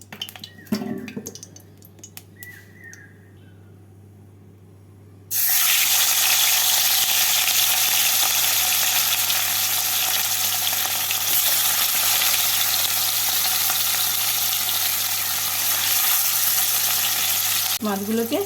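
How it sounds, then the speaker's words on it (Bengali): Mrigal fish pieces fry in hot oil in a pan: after a few clinks of utensils, a loud, steady sizzle starts abruptly and continues without a break, then drops away right at the end. "আলুগুলো তুলে নেওয়ার পর এই তেলেই মাছগুলোকে ভেজে নিচ্ছি"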